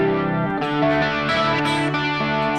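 Electric guitar with a chorus effect placed ahead of the overdrive, ringing out sustained, shimmering chords with a slightly gritty, modulated tone, close and steady for a few seconds with no talking.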